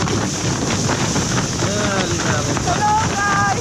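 Strong wind buffets the microphone with a steady roar, waves and water noise underneath, and faint tonal whistles or voices rising near the end.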